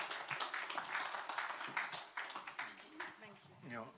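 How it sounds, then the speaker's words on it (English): An audience at a business roundtable claps in a dense, fairly faint patter that continues throughout the stretch. "So please, a round of applause for Mr. Segun Awolowo."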